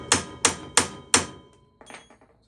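Four evenly spaced metallic hammer blows as an axle is driven into the wheel hub of a turbo Polaris RZR during a wheel bearing replacement, close and sharp, followed by a couple of lighter taps.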